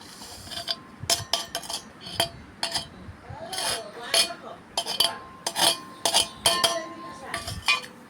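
Sesame seeds being pounded and ground in a stone mortar for tamarind-leaf chutney, giving a run of sharp clinks and knocks in uneven bursts, close and fairly loud.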